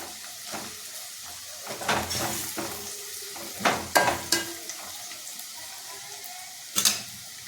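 Garam masala sautéing in a hot pan for a masoor dal curry, a soft continuous sizzle broken by several sharp scrapes and clacks of a spoon stirring, close by with no talking.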